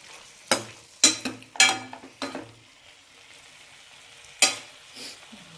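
Prawns sizzle and fry in a pan, broken by several sharp bursts of stirring and a clink of utensil against pan, with quiet sizzling between them.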